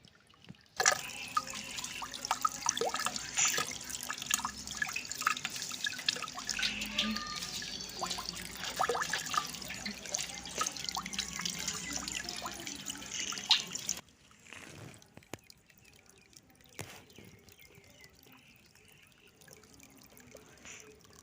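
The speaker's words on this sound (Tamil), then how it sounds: "அதுவும் இந்த தண்ணி கொட்டுற இடத்துல ரொம்ப சூப்பரா இருக்கு" A forest waterfall pours steadily with a soft hiss of falling water, fairly faint and distant, then drops quieter partway through as the rushing fades to a lighter trickle.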